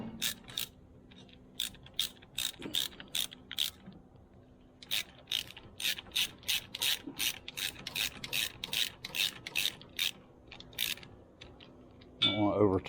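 A hand ratchet threads bolts back into a Kubota thermostat housing, giving quick runs of sharp, close clicks in a steady back-and-forth rhythm with short pauses. A brief louder rattle comes near the end.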